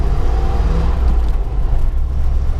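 Steady low engine rumble and road noise from inside a moving car on a dull, damp English day, continuous and loud with no talking.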